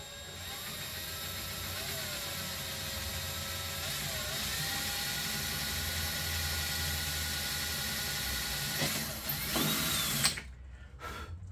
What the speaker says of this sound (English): Let's pre-drill them.